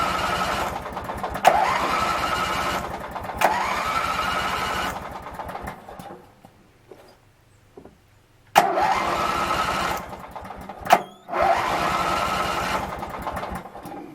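A Craftsman lawn tractor engine with a newly replaced ignition switch cranks and sputters in repeated bursts, stopping into near silence midway before cranking loudly again, close up.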